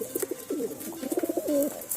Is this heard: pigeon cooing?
yes